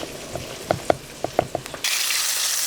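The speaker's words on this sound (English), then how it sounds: "You can use this to put your okra into your hot oil." Okra dropped into hot oil in a skillet sets off a sudden loud, steady sizzle, preceded by a few soft clinks and taps as the pieces are readied.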